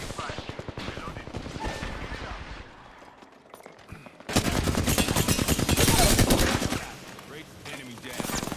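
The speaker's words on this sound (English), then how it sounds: "I'm taking fire" Loud, sustained automatic gunfire in a video game hammers in rapid bursts, first under a speaking voice and then alone in a dense, roaring volley before easing off.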